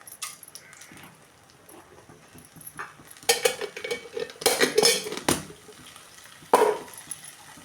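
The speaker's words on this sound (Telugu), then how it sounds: "ముందు కొన్ని తాలింపు వేసుకుంటున్నాను." Spices tempered in three spoons of hot oil for a Telugu dal and bachali kura meal, with a metal spoon clattering and scraping loudly against the pan in several close bursts and no talking.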